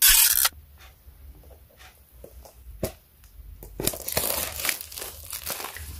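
Crinkling and tearing of plastic packaging as a 4K action camera is unboxed, a loud burst at the start, then quieter rustles and a sharp rip, followed by steadier close crinkling and handling.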